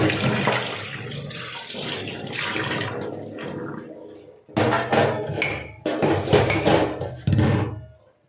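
Tap water gushes steadily into a sink as vegetables are washed in a home kitchen, then stops and restarts in several loud bursts, with dishes clattering faintly.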